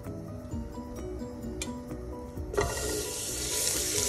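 Butter added to hot oil in a pan for a Goan beef stew sizzles and fries, the hiss rising sharply partway through and holding steady and close, with no talk over it.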